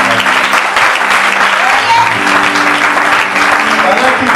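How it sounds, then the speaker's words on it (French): A church congregation claps and cheers loudly and continuously during a worship service, with voices mixed into the sustained applause. "On acclame le Seigneur pour le Seigneur."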